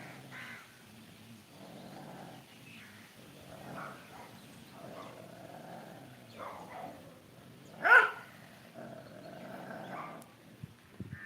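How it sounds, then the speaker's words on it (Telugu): Dogs barking at a distance in a village, scattered barks coming and going over a quiet outdoor background, with one louder bark near the end. "కుక్కలు చూడండి ఎన్ని ఉన్నాయి"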